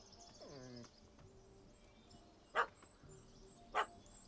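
A dog barks in The Witcher 3 video game, two short, sharp barks a little over a second apart, fairly clear over quiet game ambience, with a brief animal whine or call just before them.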